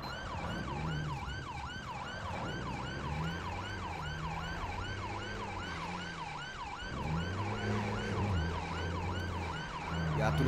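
A police car in GTA 5 runs with a wailing siren that sweeps up and down steadily, layered over a loud, droning engine rumble that swells near the end, with no talking.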